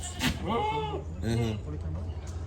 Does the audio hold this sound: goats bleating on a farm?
yes